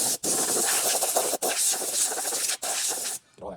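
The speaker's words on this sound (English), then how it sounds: "I want to hit it with some compressed air here" Compressed air blasts across a freshly scrubbed wheel rim from a Mercury Monterey, three long loud broadband hissing bursts separated by brief pauses, ending in a quieter tail.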